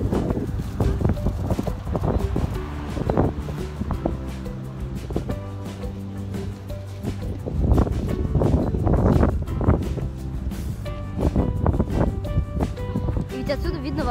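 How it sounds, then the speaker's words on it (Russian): Strong wind gusts buffet the microphone on the Triana Bridge in Seville, a constant rumble under people talking throughout. "но очень сильный ветер."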